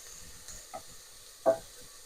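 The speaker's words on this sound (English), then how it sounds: "Our zucchini. Let's flip them." Zucchini slices sizzle quietly in a pan as they are flipped with tongs; the soft frying comes with two short clacks, the second louder.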